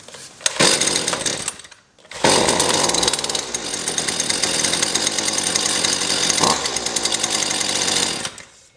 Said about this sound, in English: So that started up, fired on the first pull, second pull, turned on completely.